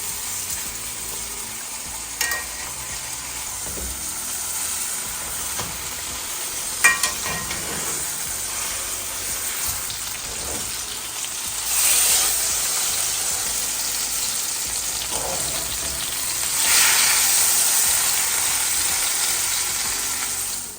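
Beef roast pieces sear in a pan with a loud, continuous sizzle that swells twice into stronger hissing bursts, broken by occasional clicks and utensil knocks, with no talking.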